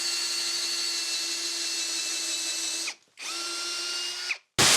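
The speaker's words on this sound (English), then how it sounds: "Using a 3/16 drill bit, I'm going to drill into my studs." A power drill fitted with a 3/16 bit bores into a wall stud, its steady high whine running loud and close, briefly stopping and restarting before cutting off near the end.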